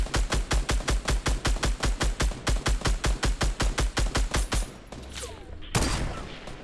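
A rapid, even stream of loud gunshots as ammo is sprayed in Fortnite, about two dozen evenly spaced bursts at a fast rhythm, then ringing quiet and a final louder shot.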